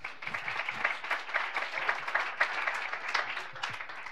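Audience clapping at a sustainability talk, a steady patter of many hands at moderate distance, fairly even throughout with a few louder claps.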